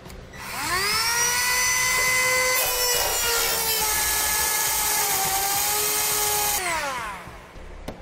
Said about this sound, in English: we need to trim out on our bed flange here so our handle can be inserted. Let's use a rotary tool to do this.